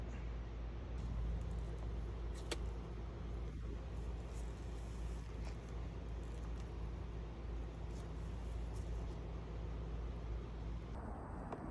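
A GM Enclave, Acadia or Traverse engine running steadily after fuel trims were reset, a continuous low rumble and hum close by with no talking.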